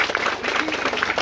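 Outdoor crowd applause at a harvest event speech, a short burst of steady clapping with voices mixed in.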